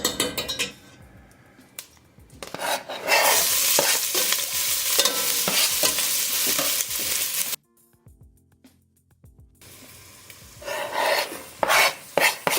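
Onion fries in lard in a pot: bursts of loud, close sizzling are broken by a near-silent gap, with utensil scrapes and clinks of stirring throughout.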